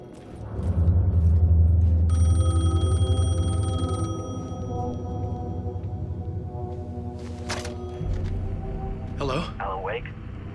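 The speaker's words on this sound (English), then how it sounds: "payphone was ringing" A payphone rings in Alan Wake 2, its tonal electronic trill repeating over a low droning rumble and dark game ambience, with a brief rising sweep near the end.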